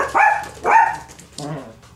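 A small dog barks in a few short, loud yips, with a brief whimpering call after them, close by and alone in a quiet room.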